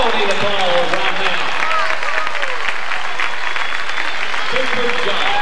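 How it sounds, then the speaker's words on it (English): A rodeo crowd at a bull riding finals arena in Tulsa, Oklahoma applauds the bullfighters with sustained, dense clapping and cheering. An announcer's voice carries over the crowd throughout. "I think they all need applause right now."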